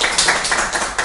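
Audience applause at a public lecture, a brief burst of scattered clapping close by, with no talk over it.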